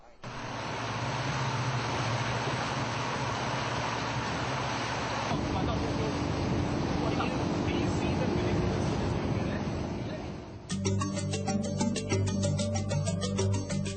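A speedboat runs from Mabul Island toward Sipadan off Borneo, a loud, steady engine roar mixed with wind and rushing water that shifts in tone midway and ends with clattering noise.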